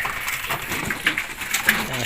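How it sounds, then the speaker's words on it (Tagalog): Pigeons feeding in a loft, with scattered sharp clicks and taps from pecking at feed over a faint background of soft cooing and bird sounds. "Yan, nasisituka na sila mga kalapatids."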